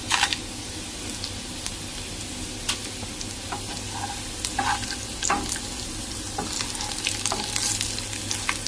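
Chilies crackling and sizzling in hot frying oil, with occasional stirring clicks, steady and close.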